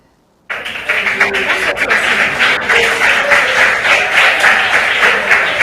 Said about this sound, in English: Clap for them, just give it to them.